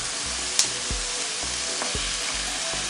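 Spinach chicken curry sizzles steadily in a pan while chilli powder is stirred in, with a spoon scraping and knocking against the pan at intervals over continuous frying noise.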